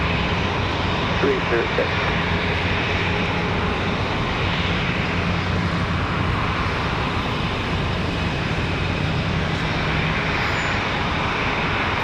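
Aeromexico jet airliner at Raleigh-Durham International on a windy day, its engines giving a steady, loud droning roar that continues throughout, with someone talking over it.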